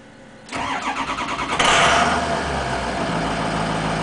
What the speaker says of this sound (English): This is the best turbocharger sound I have in my excursion in Poland.